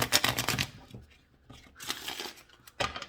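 Tarot cards being shuffled by hand in bursts of crisp riffling and flicking, with quiet pauses between, close to the microphone.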